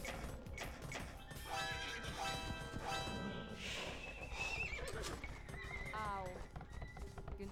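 Horses whinny and neigh repeatedly in Age of Empires 2, their calls layered with hoof clip-clops and game sounds while someone talks over them.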